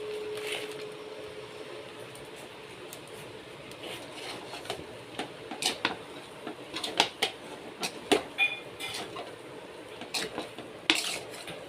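Chicken noodles being stirred in a pan, with irregular metallic scrapes and clinks of the utensil against the pan, some sharp and close, over a quiet background.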